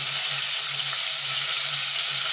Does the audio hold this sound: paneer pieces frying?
yes